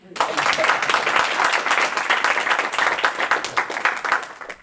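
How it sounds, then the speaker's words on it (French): Audience applause at a French conference panel on cities and nature: many hands clapping in a brisk, crackling burst, loud and fairly close, sustained for several seconds before fading, with some murmur mixed in. "On peut l'applaudir, hein."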